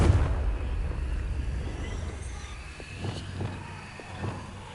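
A Confringo fire spell from the Hogwarts Legacy video game lands as a heavy blast with a deep rumbling boom at the start, then fades into a low roar with a few soft thumps.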